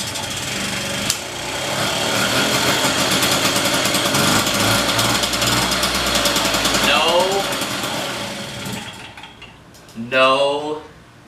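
A 1979 Motobecane moped engine, a barn find revived after years unused, fires up and runs at a steady buzzing idle for several seconds, then dies away. A short burst of excited voice follows near the end.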